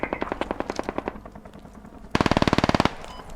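Machine gun fire in the military shooter game Squad: a rapid burst of evenly spaced shots, then a quieter pause, then a louder, closer burst of sharp rhythmic shots.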